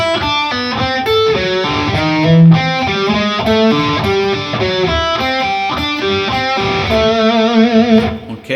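An electric guitar plays a riff slowly with pull-offs, slides and vibrato, a steady stream of clear, moderately driven picked notes at a measured pace, with no voices.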